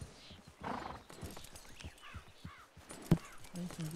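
Horses in a western hunting video game clip-clop on the move with scattered hoof steps, and one lets out a whinny partway through, at moderate distance with faint background ambience.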